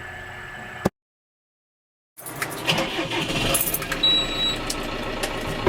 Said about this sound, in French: Nous allons maintenant démarrer le tracteur en appuyant sur la pédale d'embrayage et en utilisant les clés.